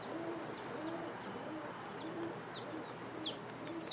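Roller pigeons coo softly at the kit loft, low repeated coos mixed with thin chirps and calls from other birds, steady outdoor ambience with no talk.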